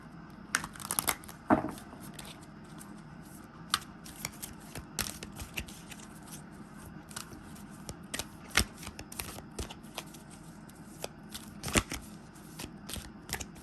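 A deck of tarot cards being shuffled, a steady run of soft riffling and flicking card sounds, close and quiet, continuing with brief pauses throughout.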